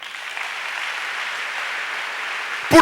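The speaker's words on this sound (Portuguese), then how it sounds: "Irmão, pela fé, aplauda Jesus." A church congregation claps steadily through a family worship service, a dense even wash of applause that holds for the whole span, with a louder burst at the very end.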